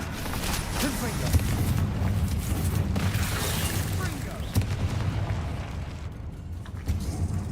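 Confringo fire spell blasts in Hogwarts Legacy combat, landing as dense booming explosions amid a constant rumble of game effects, with other spell impacts and shouted incantations mixed in throughout.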